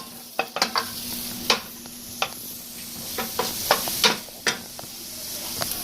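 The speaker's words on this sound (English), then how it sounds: "So here I have my onion. I'll let it saute a little bit, just for some few seconds." Onion sautéing in coconut oil in a pan gives a steady close sizzle, broken by a run of sharp stirring scrapes and clicks from the utensil, with no voices.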